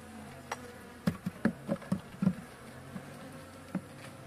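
Faint honey bee buzzing at a weak hive damaged by varroa mites and wax moths, with a few soft bumps and taps, quiet and close, no voices.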